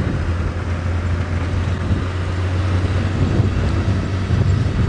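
A safari vehicle rumbles and rattles over a corrugated dirt road on a sunrise game drive, a steady, loud low drone of engine and juddering body with no one speaking.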